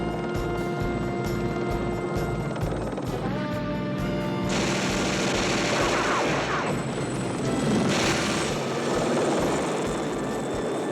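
In a TV drama, a helicopter roars overhead while its 20-millimetre cannon fires rapid bursts, with the rotor chop and engine whine mixing with loud gunfire and booms that swell and shift across the scene.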